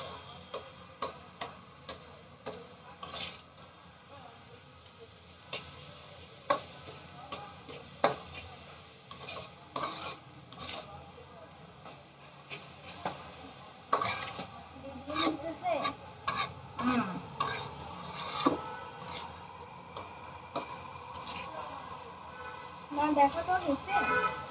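Semai vermicelli being stirred and fried in a pan for semai barfi, giving a faint sizzle under intermittent clicking spatula scrapes, with voices talking at points.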